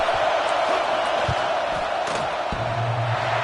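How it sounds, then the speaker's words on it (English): Stadium crowd at a Texas A&M college football game roaring in a steady, dense wash as the field goal unit sets up on fourth down, loud and continuous with scattered shouts and whoops throughout. "This crowd trying to do its part to get inside the kicker's head"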